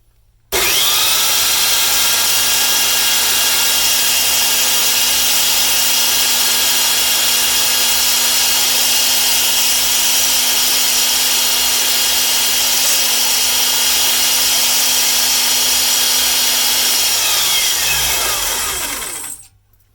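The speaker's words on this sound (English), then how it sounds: "just angle these on the edge of this belt sander" Belt sander running steadily for nearly twenty seconds while strap gun staples are held at an angle against the belt's edge, a continuous whirring grind that winds down at the end.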